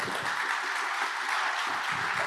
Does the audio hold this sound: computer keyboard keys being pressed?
no